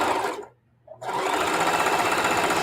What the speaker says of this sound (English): I'm going to just sew down this side, and I'm going to make a pretty big seam